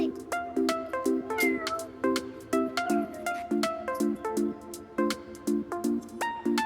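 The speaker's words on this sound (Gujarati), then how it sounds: "બિલાડી જોઈ ગઈ છે, હવે એને જોવા જાય" A cat meows repeatedly near a car being cleaned inside, giving a steady series of short, clear, moderately loud calls with no talk over them.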